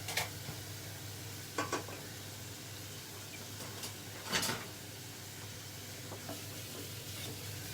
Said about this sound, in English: spices to caramelise with the onions in the pan